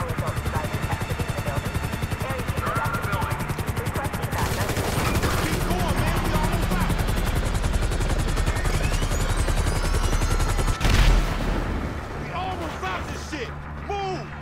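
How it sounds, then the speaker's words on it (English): Steady rotor thump of a helicopter in Grand Theft Auto V amid dense gunfire bursts and chaotic game action, loud and continuous with voices shouting over it. "We ain't going nowhere with that chopper on us."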